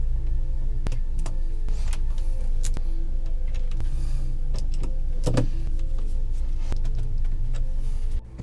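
A boat's bilge pump motor hums steadily after being rewired, a constant close electric whir with light clicks and knocks over it, cutting off at the end.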